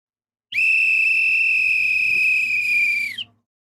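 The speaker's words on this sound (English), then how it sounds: "And now there's a whistle." A referee's whistle at a Colombia vs Switzerland World Cup knockout match gives one loud, steady blast of about three seconds, ending in a quick chirp, over a low crowd hum.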